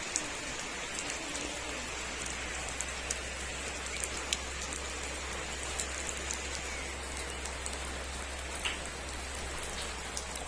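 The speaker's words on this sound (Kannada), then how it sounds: "ಮಳೆ ಸ್ವಲ್ಪ ಜೋರಾಗ್ತಾ ಇದೆ" Heavy rain falls on a house, with water running off the roof in a continuous dense patter, sharp drip ticks scattered throughout and a low steady hum beneath.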